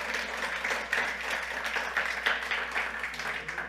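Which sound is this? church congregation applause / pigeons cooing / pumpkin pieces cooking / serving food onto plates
church congregation applause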